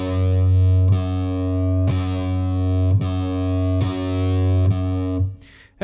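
Distorted electric guitar plays a low sustained note from a riff, re-picked about every second with alternating softer and harder attacks, each one ringing out loud and full before a final muted scrape.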